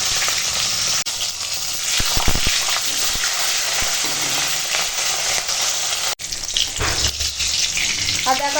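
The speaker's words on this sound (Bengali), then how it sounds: "তেল গরম হয়ে গেছে আর এখন এই বাঁধাকপির জন্য মাথাটা ভেজে নেবো" Loud, steady sizzling of a fish head frying in hot oil, with a few sharp pops and crackles and clinks of a utensil against the pan.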